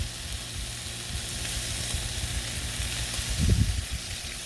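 Trader Joe's bacon ends and pieces sizzling on a griddle set to medium-low, a continuous even hiss with a low rumbling thump near the end and no talking.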